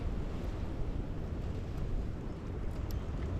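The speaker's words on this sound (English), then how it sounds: "one of those classic cold, windy nights" Steady, rushing wind noise on a cold night in the woods buffets the microphone, a broad, continuous roar with no voices and no clear breaks.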